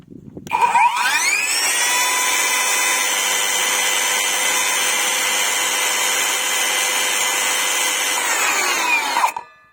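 A Parkside Performance 40V cordless circular saw, model PPHKSA 40-Li A1, at speed level 6 spins up quickly to a loud, steady high-pitched whine, runs free for about eight seconds, then winds down sharply.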